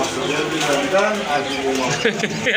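Pigeons at a market stall give soft, low, rolling coos that run on continuously at close range, mixed with a busy crowd's murmur.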